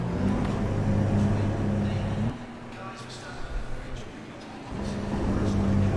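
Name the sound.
race car stalling in video game Assetto Corsa Competizione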